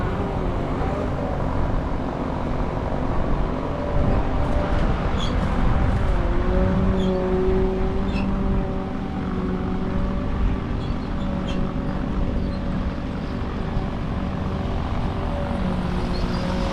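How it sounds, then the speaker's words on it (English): A tractor engine drones steadily at close range while being parked during a peanut harvest, its low hum shifting slightly in pitch partway through, with no talking. "I'm just gonna park this tractor right here behind the basket"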